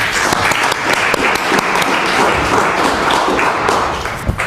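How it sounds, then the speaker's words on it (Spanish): A lecture audience applauds a speaker being introduced at a talk on Zapatismo, with loud, dense and continuous clapping from many hands close by and a few sharper individual claps standing out. "Un aplauso para el maestro Edgar Rojano."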